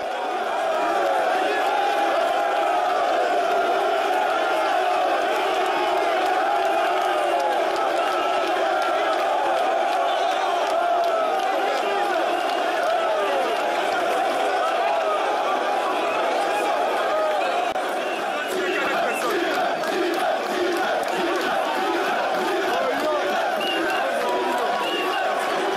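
A large crowd shouts continuously at a political rally in Pointe-Noire, Congo-Brazzaville, with soldiers among them, a dense wall of raised voices and chanting that stays loud and unbroken throughout.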